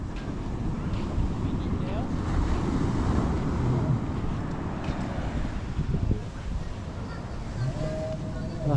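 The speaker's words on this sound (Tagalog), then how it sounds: "Lumalakas pa ang hangin." Strong wind near the sea buffets the microphone with a constant low rumble and roar, steady throughout, and a faint voice is heard beneath it.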